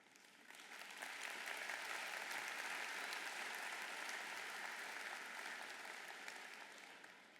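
Applause from a College of Liberal Arts commencement audience swells in, holds as a broad, even roar of many clapping hands in a large hall, then tapers slightly toward the end.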